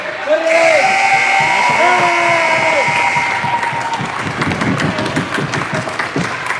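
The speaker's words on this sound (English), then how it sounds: "Legan Center cheering on the Eagles as they pick up, I believe, their 11th win of the season." A crowd at a high school varsity basketball game in a gym cheers and claps after the final buzzer, with whistles and whoops over steady applause, while an announcer talks above it.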